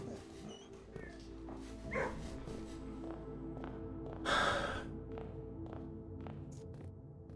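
Dogs in a game bark in a few short, separate yips and woofs: a brief one early, another near the middle and a louder burst later, over a quiet background of music.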